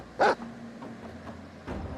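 A dog gives one loud, sharp bark up close, then fainter yips and whimpers follow over a low steady hum.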